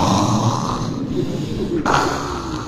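A man imitates loud, steady snoring with his voice, a continuous rasping drone lasting a few seconds.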